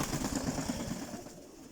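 A released pigeon takes off, a quick soft flutter of wingbeats close by that fades within a couple of seconds.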